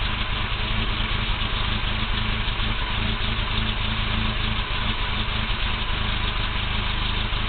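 A 1987 Toyota 4Runner SR5 with a 22RE four-cylinder idles low and rough, nearly stalling, with a steady close-up engine drone and uneven low pulsing throughout, no voices.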